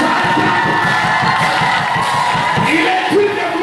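A large church crowd at a revival crusade cheers and shouts loudly together, a dense, continuous roar of voices with whoops rising throughout.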